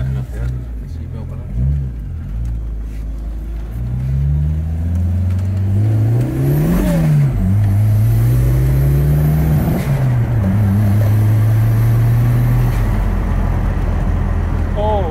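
A Volvo 240 Turbo, a UK-market sleeper built to over 300 bhp, pulls away with a rising engine note that climbs and falls through the gears. The engine is loud and close inside the car, and voices come through at the start.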